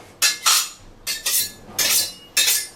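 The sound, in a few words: sharpening a kitchen knife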